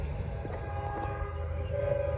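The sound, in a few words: Norfolk Southern freight train passing with horn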